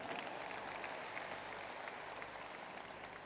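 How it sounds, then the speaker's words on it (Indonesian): A large hall full of women claps for a short while, soft and distant, a steady patter of many hands with no clear break. "Tepuk tangan."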